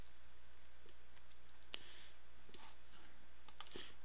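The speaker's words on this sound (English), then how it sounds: "And here, we'll type in some text" Typing on a computer keyboard while entering code, a few sparse, quiet key clicks spread unevenly over a faint background hum.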